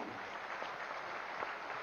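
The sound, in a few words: audience applause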